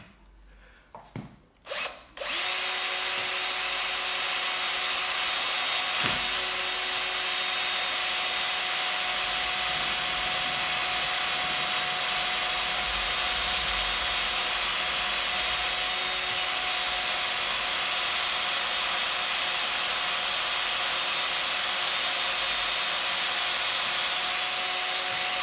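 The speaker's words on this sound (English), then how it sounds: "now we have to drill exactly in the spot where the spindle go in" A steady, continuous power drill grinds into the metal of a safe lock at the spindle at close range, a high whining tone holding for many seconds after a few short start-up bursts.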